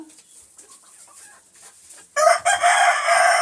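A rooster lets out a single loud, close crow that bursts in after a quiet, faint stretch and holds through to the end.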